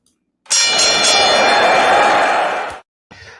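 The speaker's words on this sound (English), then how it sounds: "I'm going to ring the bell" A bell rung on a wrestling news show to mark a segment break, one bright sustained ringing tone that holds for over two seconds before cutting off, followed by a short fainter burst.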